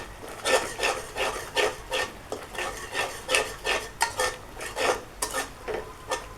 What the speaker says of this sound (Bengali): মশলাটা ভালোভাবে কষিয়ে নিতে হবে, না হলে তো কাঁচা গন্ধটা থেকে যাবে।